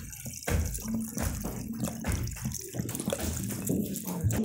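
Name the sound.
pouring cold fridge water into cooking pan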